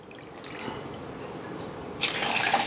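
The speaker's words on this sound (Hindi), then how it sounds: "अब हम इसमें 250 ml का ग्लास और डालेंगे" Water is poured from a 250 ml glass into a blended coconut milk mixture, a steady liquid splash and trickle that grows louder and brighter near the end, heard alone without talk.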